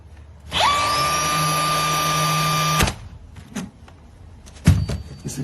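Bosch GNH 18V-64 MD cordless nailer driving a 15 gauge nail into wood: a motor whine winds up and holds steady for about two seconds, then cuts off with a sharp crack, and a second knock follows a moment later.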